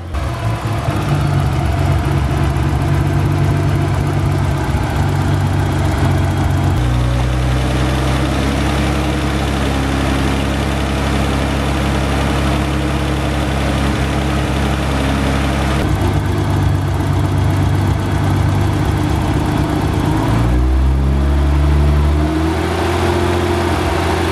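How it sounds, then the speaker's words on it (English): A 34-year-old BMW M20 (M20B20) engine idles steadily and close, a low continuous rumble with a light, fast ticking from the fuel injectors running through it; the pitch shifts slightly a few times. "The only noise that we still hear from the engine is the sound of the injectors"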